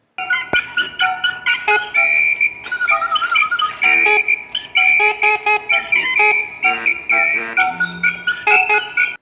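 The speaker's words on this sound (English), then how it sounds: "this computer that will blow air through like whistles and like flutes" Computer-driven whistles and flute-like pipes at the Minneapolis Institute of Art play a loud, busy sequence of short piercing notes and chords, mechanically blown, with no voices.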